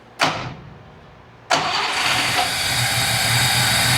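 Unimog 404 engine starting after a fuel pump rebuild: a brief cranking burst, a pause, then it catches loudly and settles into a steady, rough idle, close with no talk.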